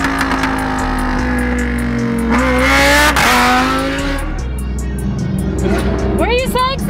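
A car engine revs loudly and continuously nearby, pitch rising and falling through the clip, with people talking over it.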